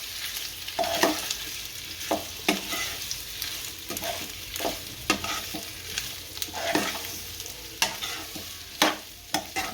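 A spatula stirs dry potato bhaji with coriander leaves in a pan, a soft sizzle under repeated scraping strokes at an irregular, unhurried rhythm, close and moderately loud, with no talking.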